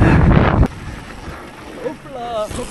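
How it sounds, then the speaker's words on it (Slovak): Wind buffets the microphone in a heavy roaring gust that then drops to a lower rush, with a few voice fragments under it. "Už tu fúka strašne."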